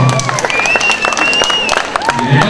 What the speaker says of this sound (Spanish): ¡Aplausos para Wilson!